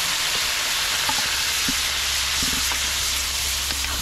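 Kibaw fries with garlic and onion in a pan, a constant close sizzle with occasional stirring clinks and soft scrapes over a low background hum.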